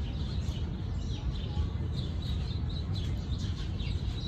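Many small birds chirp in quick, high repeated bursts, a busy flock twittering steadily at moderate distance over a low background rumble.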